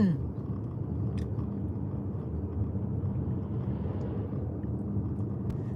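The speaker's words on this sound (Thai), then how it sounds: "เมืองนอกก็มีรถไถเหมือนกัน" A tractor drives along a road in Denmark, its engine a steady, close, low rumble that holds an even level throughout with no talk over it.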